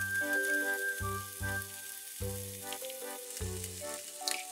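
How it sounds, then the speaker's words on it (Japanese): Ham rolls wrapped around tricolor bell peppers fry in a pan with a soft, steady sizzle beneath prominent melodic background music. "巻き終わりを下にして焼くとちゃんとくっつくので"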